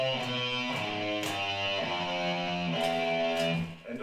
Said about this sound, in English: Today I want to show you a simple scale or shape to sound instant evil on guitar.